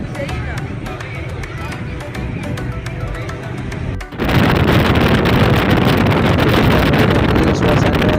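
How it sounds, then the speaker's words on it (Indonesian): Steady engine drone and rushing wind on an open passenger ferry deck in Aceh, with faint voices in the background; the wind roar swells suddenly and stays loud. "Ini suasana di atas kapal juga"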